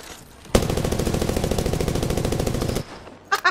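Sustained rapid smart bullet gunfire from a weapon in Apex Legends, a dense even burst of shots running nearly two and a half seconds before cutting off, followed by a couple of faint clicks.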